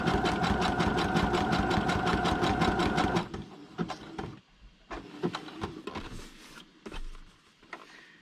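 A sewing machine runs a skinny zigzag stitch across paper: a fast, even mechanical rattle for about three seconds, then stops, followed by scattered clicks and handling knocks.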